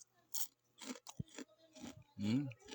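Close, quiet crunching bites and chewing of crisp food like chicharon in irregular bursts, with a faint low hum beneath.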